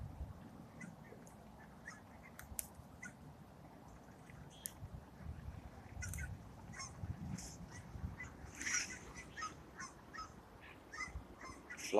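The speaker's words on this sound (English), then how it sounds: "A flock of ducks." A flock of ducks calls along the Columbia River, with scattered honking and quacking rising over a steady outdoor background and no talk.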